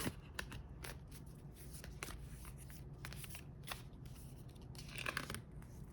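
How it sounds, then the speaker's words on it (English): Circular oracle cards being shuffled by hand in repeated quick riffles and flicks, close by and fairly quiet, with no talking. "these circular cards are a little harder for me to shuffle through"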